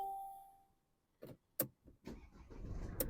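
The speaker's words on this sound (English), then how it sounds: "Now I'm going to start the car" A Mercedes car is started up close: a few sharp clicks and a short cranking burst, then the engine catches and settles into a low, steady idle.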